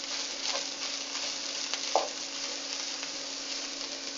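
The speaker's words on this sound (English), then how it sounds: "that's mixing in quite nicely now, so we'll mix it all in together" Tomato puree sauce cooking in a pan, a soft even sizzle with a single scrape of the spoon midway, quiet and steady, no talking.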